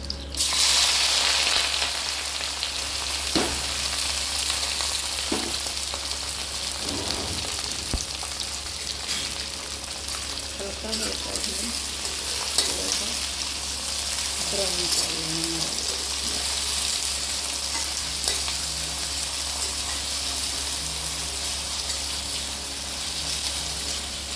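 Cumin and spices frying in oil for salted Punjabi rice, a steady bright sizzle throughout with scattered clinks and stirring sounds, and soft voices now and then.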